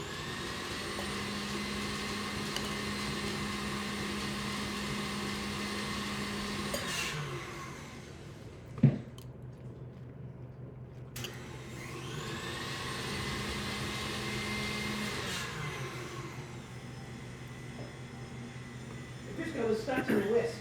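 An electric mixer on low speed beats Crisco in a bowl with a steady motor whir that cuts out briefly with a clunk, then starts up again, while voices murmur around it.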